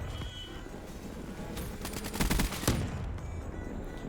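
A first-person shooter game produces a rapid burst of gunfire, a rattling string of close shots lasting about a second over steady game ambience, followed by one more sharp shot.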